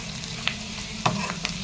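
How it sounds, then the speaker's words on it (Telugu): Half-cooked potato pieces with added seeds frying in a pan, a low steady sizzle with a few sharp stirring clicks and scrapes, close and alone. "సో ఆల్రెడీ హాఫ్ ఆఫ్ ఆలు వేగింది కాబట్టి నేను ఇప్పుడు సీడ్స్ వేసాను"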